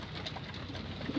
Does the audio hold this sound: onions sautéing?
no